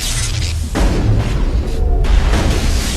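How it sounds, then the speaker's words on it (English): Deep booming explosions in Mass Effect roll over a dense, noisy rumble, with heavy low thuds stacking together over a few seconds. "Too much explosions here."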